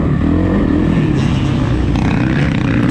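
A Suzuki RMZ450 dirt bike engine roars continuously while being ridden on a sand track, loud and close with steady throttle and small shifts in pitch, no talking.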